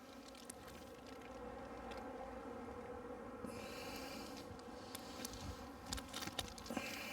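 Honey bees buzz in a steady low drone inside a hive during a late-winter checkup, while bees work on sugar, with occasional clicks and handling noises from the frame work.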